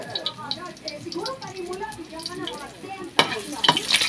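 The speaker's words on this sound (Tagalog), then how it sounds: "Napakalakas ng tilamsik mga kaidol." Onions and vegetables fry and spatter in a pan while being stirred, a steady crackling sizzle with a sudden louder hiss and clatter of stirring near the end, under a voice talking.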